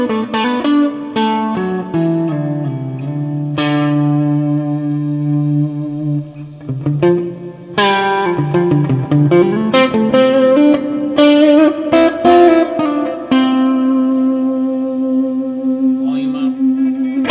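A 1972 Les Paul Custom '54 Black Beauty reissue electric guitar at mid-gain with lush heavy reverb and a little delay, loud sustained chords and single notes ringing into long washy tails.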